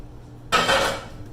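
Chopped onion, celery and peppers tumble into a soup pot with a single brief clattering rush of contact against the metal, lasting about half a second before fading.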